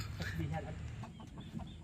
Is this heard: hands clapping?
no